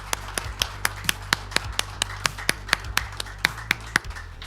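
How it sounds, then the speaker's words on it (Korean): Indoor corporate award ceremony marking annual goal achievement, with a smallish group clapping in a quick, fairly even rhythm of sharp individual claps, close and moderately loud, a low hum underneath. "임직원 여러분께 경례 많은 박수로 축하해 주시기 바랍니다"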